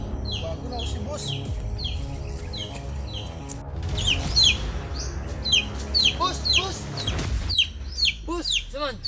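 Chickens cluck and chirp close by in a busy yard, with a steady run of short calls and sharper bird chirps that grow denser partway through, over low background noise.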